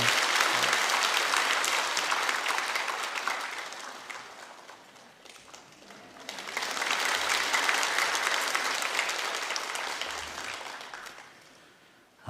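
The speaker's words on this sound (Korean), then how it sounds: "우리 박수로 이 아이를 축복합니다." A church congregation at a Sunday service breaks into dense, sustained applause that swells, dips briefly midway, then rises again before fading out, filling the room with no voice on top.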